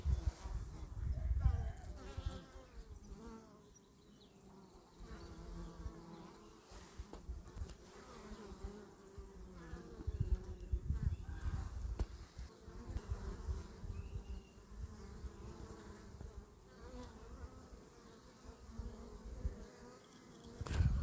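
Honeybees forage and carry pollen among blossoming apricot trees in a spring apiary. Their buzzing is a steady, close drone that lasts throughout, with occasional louder passes near the microphone.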